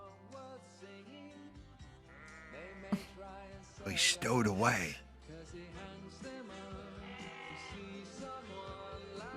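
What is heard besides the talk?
sheep bleating in a movie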